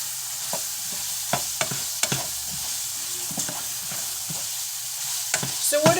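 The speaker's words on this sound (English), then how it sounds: "I'm going to go ahead and add some of the fresh pepper. And get that cooking up." Fresh pepper cooking in a pan for open-face cheese steaks, with a steady low sizzle broken by stirring clacks and scrapes at a spaced, irregular pace, close up and with no talking.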